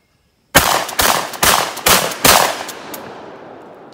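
10 gauge shotgun fired five times in quick succession with steel shot loads outdoors, loud close booming blasts spaced about half a second apart, the last echo decaying into quiet.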